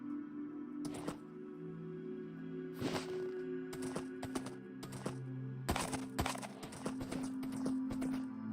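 Hoofbeats of a horse in the Minecraft video game, a run of sharp, uneven clopping clicks over a steady background hum, fairly quiet and close, with no talking.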